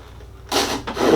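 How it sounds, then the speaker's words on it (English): Pull saw cutting through a wooden dowel butted against a stop on a board, a brief quiet pause then two close rasping strokes, the second longer and building. "Use the pull saw."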